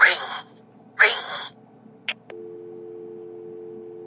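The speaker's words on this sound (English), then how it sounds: "Ringing phone." A phone rings in Batman: Arkham City, with a couple of short chirps followed by a steady electronic tone that holds alone at moderate level after two brief bursts of speech.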